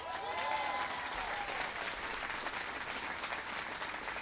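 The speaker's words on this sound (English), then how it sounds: "Give him a big round of applause" A crowd applauds steadily, a dense wash of clapping that holds at even loudness throughout.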